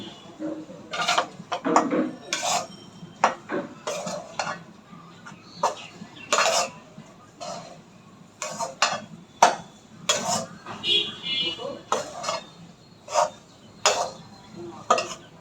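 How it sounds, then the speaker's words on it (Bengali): Gram flour (besan) is mixed by hand or spoon into a raw banana chop mixture in a bowl, with repeated soft stirring, squishing and clinking strokes, fairly close, with faint talk in the background. "তো বেসনটা এর সাথে সুন্দর করে মিশিয়ে নেবো"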